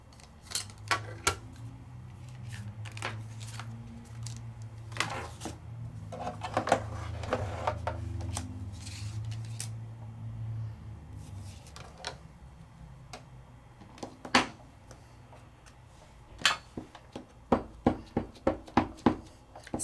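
A Sizzix Big Shot die cutting machine in use, giving a close run of clicking, ratcheting ticks over a low grinding rumble, ending in a quick rhythmic series of sharp clicks.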